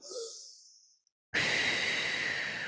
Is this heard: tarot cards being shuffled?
no